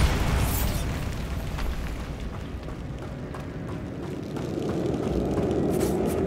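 A Bombarda explosion spell goes off in Hogwarts Legacy, a loud booming blast with a rumbling low roar that rolls on and swells again toward the end.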